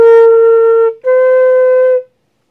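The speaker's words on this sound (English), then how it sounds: "So, our following notes on our first five notes should sound like this, what we've covered so far." Flute plays clear sustained beginner notes, two long tones separated by a short break, bright and close with no accompaniment or speech.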